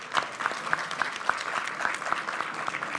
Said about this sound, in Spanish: También para él pido un aplauso por su presencia.